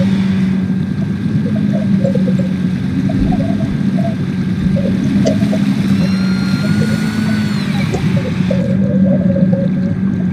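Whale calls from a submarine scene in the video game GTA 5 ring out as long moaning and sweeping tones over a constant low engine rumble, loud and close, with no talking.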